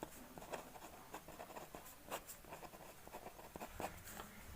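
Pen writing on paper during a physics question-solving lesson, with soft scratching strokes and small taps in an irregular rhythm, close but faint, with no speech.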